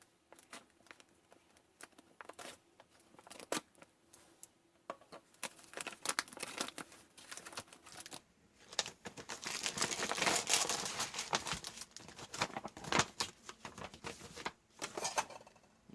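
Plastic packaging of a Lithuanian military MRE crinkles and rips as it is cut open, a close series of irregular crackles and tearing bursts that grow busier and louder midway.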